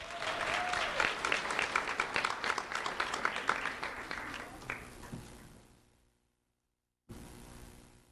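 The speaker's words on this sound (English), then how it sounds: "Let's have a round of applause for Jordan Coleman." An audience at a community recognition ceremony breaks into loud, sustained applause that fades out after about five seconds, then a brief burst of room noise returns after a pause.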